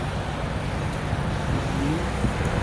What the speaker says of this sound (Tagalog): Marami pong mga sasakyan.